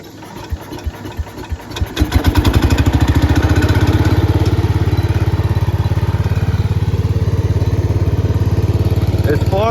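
A Cub Cadet 125 lawn tractor with its original, never-rebuilt engine cranks for about two seconds, catches, and settles into a loud, steady, close running chug with a fast even pulse.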